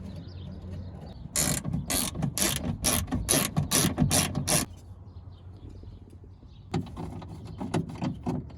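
A window regulator on a 2001-05 Honda Civic, with a broken regulator, moves the door glass. A rapid, rhythmic ratcheting clatter runs for about three seconds, pauses, then starts again more briefly, with mechanical whirring underneath.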